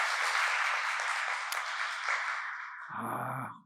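Welcoming applause from a crowd at a breakfast prayer meeting, steady broadband clapping that tapers off, followed by a brief low hum and tone near the end.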